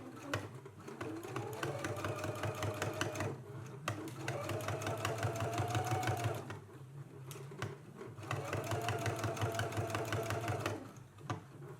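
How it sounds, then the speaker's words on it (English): A sewing machine edge stitches a sleeve cuff in three bursts of rapid, even whirring and clatter, separated by brief pauses, close and fairly quiet. "So let's go to the sewing machine and we can go ahead and start stitching in place now."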